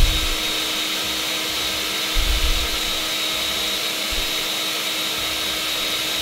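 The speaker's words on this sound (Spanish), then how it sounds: "Y lo único que vamos a hacer en este momento es licuar." A blender runs steadily, whirring a sauce of mango and chili for wings, loud and close with a continuous motor drone and slight shifts in pitch, alone without talk.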